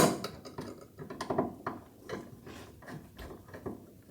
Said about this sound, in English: Gonna have to loosen the strap in here.